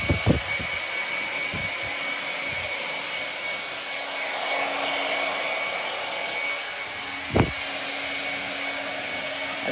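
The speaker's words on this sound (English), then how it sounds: "I love drying the hair." A hair dryer blows steadily and loudly close by while hair is dried after a fade haircut, its airflow a constant whooshing drone with a faint whine, broken by a few brief knocks and clicks.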